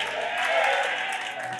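A church congregation claps hands during a thanksgiving service, producing a continuous wash of many overlapping claps, steady and somewhat distant, with no distinct voices.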